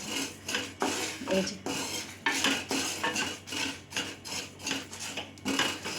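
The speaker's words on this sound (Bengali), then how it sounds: "এই মশলাটাকে আমি শুকনো কড়াইয়ের মধ্যে ভালো করে ভেজে নেব।" Spice mix with a little salt being dry-roasted in a dry wok, close rhythmic scraping and clinking of a metal spatula against the pan in repeated short strokes, no voices.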